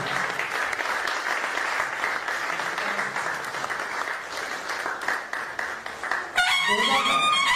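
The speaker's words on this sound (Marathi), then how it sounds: "जोरदार टाळ्या" Loud applause from a crowd at a community gathering, sustained dense clapping for several seconds before it breaks off near the end, where other sound takes over.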